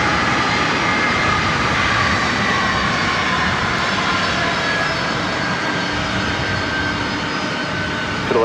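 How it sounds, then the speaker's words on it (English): A WestJet Boeing 737 Max 8 jet arriving from Toronto and landing at LAX, a loud, steady engine roar that holds close and constant throughout with no voices. "This is WestJet flight 1100 coming in from Toronto on a Max 8"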